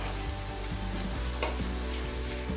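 Spices frying in a pan give off a steady sizzle, with light scraping taps from stirring as they brown, close and continuous with no voices.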